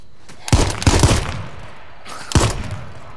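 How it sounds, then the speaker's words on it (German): Gunfire from the H1Z1 zombie survival video game, several sharp shots in quick succession followed by a pause and then another loud shot, heard up close with no talking over them. "Vier"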